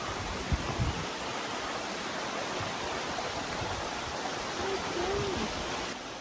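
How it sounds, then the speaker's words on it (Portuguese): A small waterfall on a quiet hiking trail in Scotland rushes in a steady, dense wash of broadband noise that stays loud and constant throughout. "Olha essa cachoeirinha."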